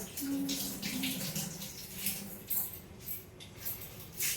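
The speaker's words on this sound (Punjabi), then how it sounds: "ਤੂੰ ਧੋ ਲੈ ਮੂਲੀ ਨੂੰ" Radish being washed under a running kitchen tap, a steady broadband rush of water with brief splashy surges and faint clinks, close and continuous throughout.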